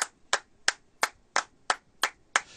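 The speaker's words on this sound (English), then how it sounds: "Get the FIFA hand clap." Eight sharp hand claps in an even, deliberate rhythm, about three per second, close and loud with no other sound between them.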